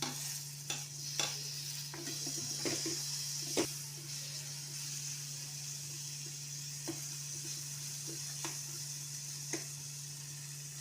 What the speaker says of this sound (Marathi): ते मसाले भाजले की त्याच्यामध्ये टमाटर घालूया